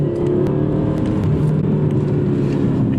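A BMW M6 engine holds a steady, loud, close drone with slight rises in pitch as it rev-matches on downshifts, continuous throughout with no talking.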